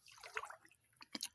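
Bare feet squelch and slosh through wet mud in a tub of cold water, a soft stepping splash followed by a sharper pair of wet slaps near the end, faint and close.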